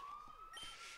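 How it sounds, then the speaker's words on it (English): Synthesized alarm from the Pokémon Colosseum video game, a steady high electronic wail with a rising siren-like sweep partway through, loud and continuous with no talk. "he actually did the smart thing and set off an alarm"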